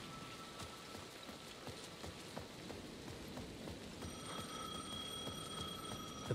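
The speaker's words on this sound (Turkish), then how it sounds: "The payphone at the edge of the plaza was ringing again." A payphone ringing on a rainy plaza in Alan Wake 2, a faint electronic ring starting partway through beneath steady, close rainfall pattering on surfaces.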